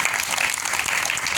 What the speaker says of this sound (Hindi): जोरदार तालियां बजाएंगे सोनिया जी के लिए।